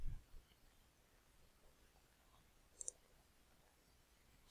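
A computer mouse gives a quick, faint double click in an otherwise quiet room, with a soft thump at the very start and end.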